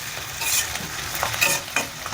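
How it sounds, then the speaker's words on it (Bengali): Onions frying in oil are stirred with a utensil, a loud close sizzle broken by several scraping stir strokes against the pan, with no talking. "পেঁয়াজটা ভালো করে নেড়ে দেবো।"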